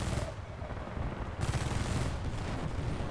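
Anti-aircraft gun in Battlefield Bad Company 2 firing a dense, continuous burst of rapid heavy shots, loud and close, with a brief break midway before the barrage resumes.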